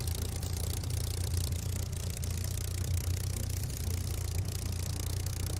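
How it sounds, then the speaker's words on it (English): A Merlin aero engine idling in Microsoft Flight Simulator: a low, steady rumbling drone with slight rattling texture, even and continuous, moderately quiet and heard alone. "The dulcet tones of a Merlin idling."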